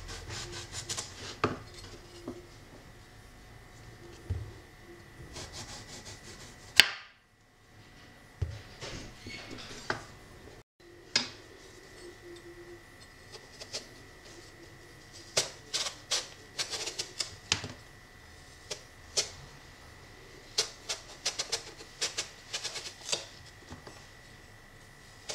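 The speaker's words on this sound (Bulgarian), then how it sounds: "И ще си нарежем патваджан." A knife slicing eggplant into strips on a cutting board, with sharp, uneven taps and scraping strokes coming in quick runs and short pauses, close and clear with no talking.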